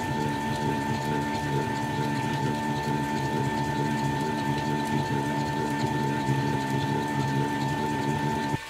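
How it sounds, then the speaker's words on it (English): A compact 40:1 compounded timing belt reduction gearbox runs with its input carrier at about 134 RPM, giving a steady mechanical whir with a constant tonal hum and fine rapid ticking that holds evenly throughout. "the output shaft rotates much slower than the input carrier, which is running at approximately 134 RPM"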